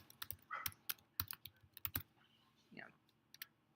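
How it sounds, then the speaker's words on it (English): Quick, uneven keystrokes clack on a computer keyboard up close, several taps in bursts, with a faint murmur in the background. "typing an idea"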